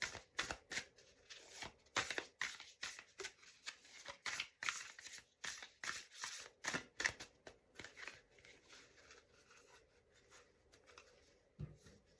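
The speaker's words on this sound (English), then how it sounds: "I'm going to pick the top 3 cards after I finish the shuffle." Oracle cards are riffled and shuffled in quick, crisp bursts of papery flicking, close up and steady, with brief pauses between rounds.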